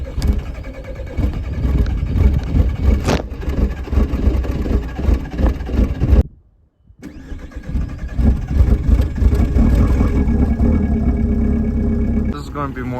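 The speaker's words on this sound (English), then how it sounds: "Stir her up for a good old cold start" A failing TDI diesel car engine is cold started in chilly weather, giving a loud, rough, rumbling run. It cuts out for a moment midway, then catches again and settles into a heavy idle, with someone talking over it.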